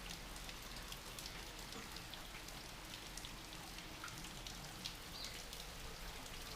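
Calm, windless rain falling on a house roof in the Bahia sertão, a soft even patter of drops with a steady hiss, faint and unbroken.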